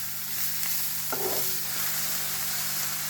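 Chopped vegetables cooking in a pan as filling for paneer moong dal chilla, a continuous close sizzle with a brief stirring clink, no talk.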